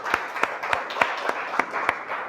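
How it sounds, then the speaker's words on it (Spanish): A church congregation claps in a slow, regular rhythm, about seven distinct claps spaced evenly, moderately loud with a light murmur of the crowd between them. "Y le da un aplauso al Señor."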